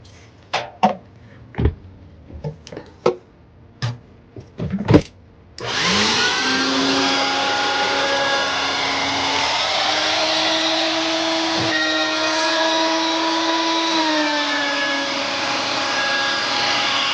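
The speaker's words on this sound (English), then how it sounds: "So what I'm gonna do is I will use my vacuum in here." Vacuum cleaner sucking out the blocked drain of a Whirlpool washer: a few sharp clicks and knocks, then the motor starts and runs as a loud, steady whine and roar close by, with slight pitch shifts.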